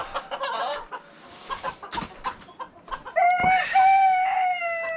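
A rooster crows loudly and close, following a stretch of scattered chicken clucks and cackles.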